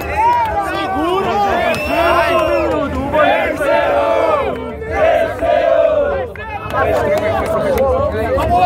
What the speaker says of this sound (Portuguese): Barulho pras rimas do Kant